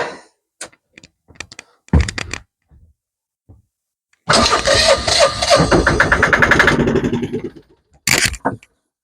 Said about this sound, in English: we bump the generator over just a little bit.